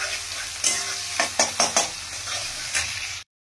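Onions frying in a generous amount of oil, a steady close sizzle broken by several quick scraping stirs, ending abruptly in silence.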